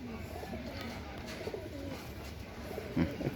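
Pigeons in a loft coo softly in low, murmuring calls against steady background noise, with a slightly louder burst near the end.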